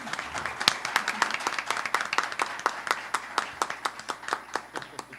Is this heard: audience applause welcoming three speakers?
yes